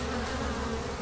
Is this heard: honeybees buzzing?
yes